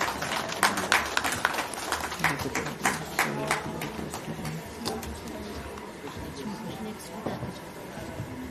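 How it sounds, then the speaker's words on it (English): A crowd applauds at a national convention of electronics and telecommunication engineers, with dense, steady clapping that fills the whole stretch and a voice faintly under it. "Please give a huge round of applause for Engineer SM Member Punjab and Chandigarh State Centre."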